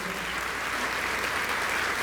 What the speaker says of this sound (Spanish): Por favor, esas palmas de todos los presentes